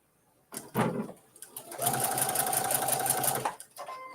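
A domestic sewing machine runs a scant quarter-inch seam on a triangle quilt sleeve for a Kimberbell mini quilt, starting with a few short bursts before settling into a steady, close whir lasting about two seconds, then stopping.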